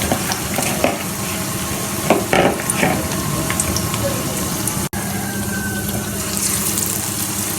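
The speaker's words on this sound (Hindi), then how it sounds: "इसको अच्छे से आराम से हल्की आंच पे आज को फ्राई कर लेंगे।" Spinach pakoras fry in ghee on low heat, giving a steady, close sizzle and bubbling with a few soft clinks and stirring scrapes, and no talk.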